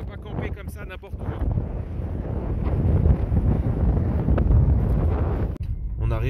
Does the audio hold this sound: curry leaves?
no